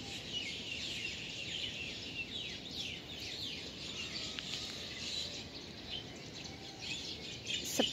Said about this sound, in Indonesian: suara burung sama suara ayam